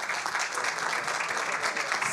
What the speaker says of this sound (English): So can we give a round of applause to our